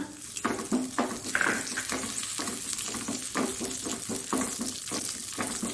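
Raisins frying in a pan for date payasa, a soft sizzle under a regular series of stirring scrapes and clinks against the pan, close and moderately quiet.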